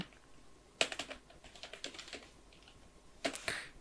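Quiet clicks of a computer keyboard, a short burst of typing followed by scattered keystrokes and a final louder flurry, close and alone with no voice.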